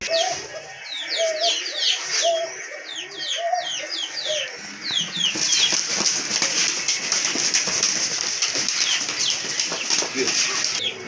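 Lotan pigeons flap their wings at a bird seller's, with a burst of rapid wingbeats over chirping and clucking birds that grows into a louder, busier flutter in the second half.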